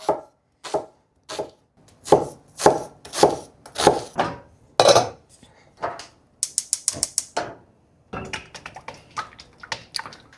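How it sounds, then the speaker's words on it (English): A knife chops an onion coarsely on a board in steady, firm strokes, then a quick burst of faster, lighter chops near the end, close and loud with no talking. "You need to chop the onion coarsely."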